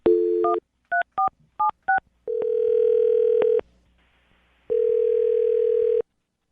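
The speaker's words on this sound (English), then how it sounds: "I'm going to dial her phone number right now" A phone number being dialed: a quick series of touch-tone beeps, then a steady tone, a pause, and another long tone, clear and close.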